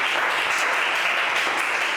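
A classroom group bursts into steady, dense applause, a continuous wash of many hands clapping close by with no voices standing out, lasting the full two seconds at an even level.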